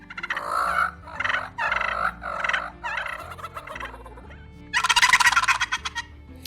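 A hand-held turkey call imitating a male wild turkey's gobble, with four loud rattling bursts in a row, then a faster, brighter gobbling trill near the end, heard alone without talk.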